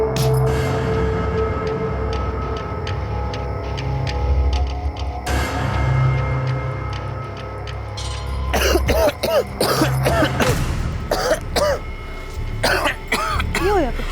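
Repeated harsh coughing fits, close and loud, with throat clearing between bursts and a steady background hum.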